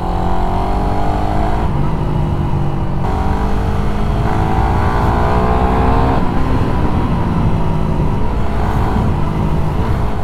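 A remapped Raider 150 Fi motorcycle engine revs loudly and continuously up close, its pitch climbing and falling in repeated sweeps through the rev range with no talking.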